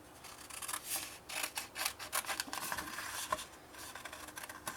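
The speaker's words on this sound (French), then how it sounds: "On coupe celle du centre. Et on coupe toute cette portion." Scissors snip through paper for a scrapbooking craft, a run of quick crisp cuts in uneven bursts, close and fairly quiet with no talking.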